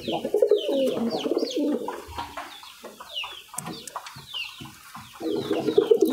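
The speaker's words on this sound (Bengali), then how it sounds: "কবুতরটা অনেক সুন্দর আর ডাকটাও অনেক সুন্দর হয়।" Pigeons coo in soft, throaty repeated phrases, with bursts of cooing at the start and end and quieter chirps and flutters in between, close by and without talk.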